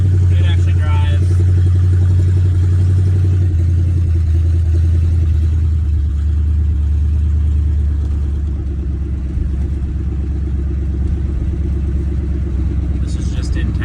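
A 1981 Chevy C10 pickup's engine rumbles steadily while it drives slowly through town, a low, constant drone heard from inside the cab, with someone talking over it.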